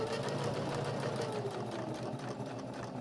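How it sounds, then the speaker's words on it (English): A sewing machine stitches a fabric business card holder in a fast, steady mechanical whir with a rapid needle rhythm, running continuously at moderate, fairly quiet volume. "I'm just going to keep stitching right across because I won't see those stitch lines"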